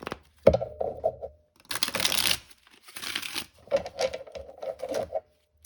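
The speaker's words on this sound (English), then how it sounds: "Okay, we'll do one last shuffle." Rapid papery riffling bursts, several in a row with short pauses, close and crisp, a deck of tarot cards being shuffled with a brief voice between.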